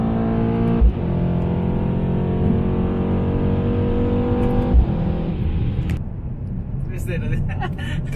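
A Mercedes C63S engine drones loudly from inside the cabin as the car accelerates hard, a sustained strained tone that holds for several seconds before easing off near the end.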